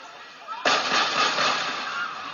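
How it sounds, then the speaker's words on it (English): Gunshots in a played-back video recording, a sudden sharp burst followed by a sustained, roughly echoing crackle of noise, heard at moderate loudness over a faint background. "Did you hear those gunshots?"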